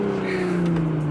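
A Toyota Supra on its stock exhaust holds a steady low engine drone, loud and close, with the pitch gradually falling over about a second.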